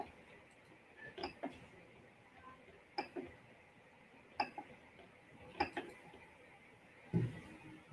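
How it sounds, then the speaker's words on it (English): A Creality CR-10 V3 3D printer with an E3D direct drive extruder runs a movement test of its axes, giving quiet, sparse ticks and short mechanical creaks at irregular intervals, with a louder knock near the end. "I'll just perform some basic movement to check if the printer is working properly or not."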